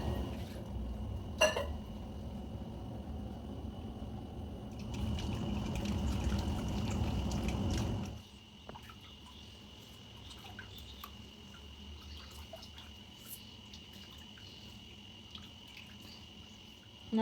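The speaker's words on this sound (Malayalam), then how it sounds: "ഇച്ചിരി വെള്ളം ഒഴിച്ചെടുക്കാം" Water poured over ground green herbs to strain them for a medicinal rice porridge, a steady splashing pour that runs loud for several seconds, then gives way to quieter drips and small liquid trickles.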